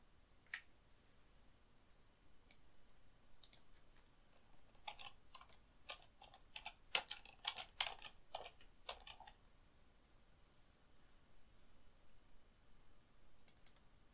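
Keys on a computer keyboard are typed in a quiet burst of rapid clicks, with scattered isolated clicks before and after, like mouse presses, close and faint in a still room.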